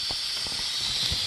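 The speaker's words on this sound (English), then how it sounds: "you can go ahead and release whatever remaining steam is in it" An Instant Pot pressure cooker vents steam in a steady, loud, high hiss that runs unbroken, with faint low bumps underneath.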